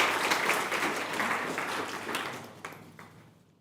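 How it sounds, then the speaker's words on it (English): Audience applause at a general assembly conference welcomes a speaker to the floor, a thick burst of clapping that gradually thins and fades out over a few seconds. "Give him an applause, please"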